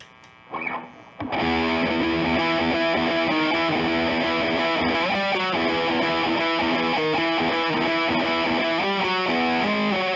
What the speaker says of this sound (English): Compare it with the Nitros Hypergain, which is a really contemporary high gain.